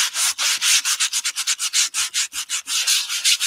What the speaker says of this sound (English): So let's just give this a little bit of a sand